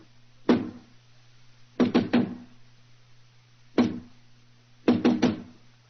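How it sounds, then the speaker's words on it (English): Knuckles rap on a solid basement door in sharp groups, one knock, then three, then one, then three, each blow a hard close thud ringing briefly in a quiet room. "Who knocks?"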